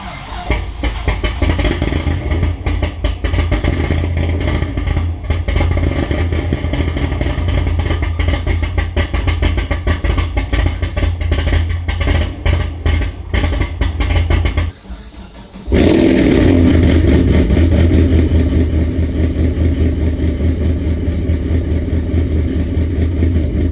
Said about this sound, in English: About to try the first fire up here